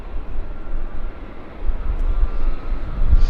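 A Delta airliner departing Vancouver airport for Minneapolis gives a loud, steady low-frequency jet rumble that swells slightly toward the end, heard from a distance without voices.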